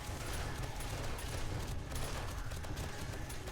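Dense, sustained gunfire from a horde-night battle in the video game 7 Days to Die, a steady wash of rapid shots filling the whole moment with no pauses.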